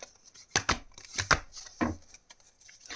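A deck of tarot cards is shuffled in several quick, papery riffling bursts with short pauses between them, close and clear with no talking.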